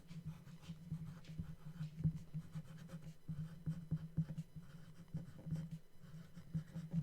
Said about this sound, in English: go ahead and write your name in the bottom right-hand corner